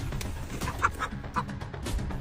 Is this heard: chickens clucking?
yes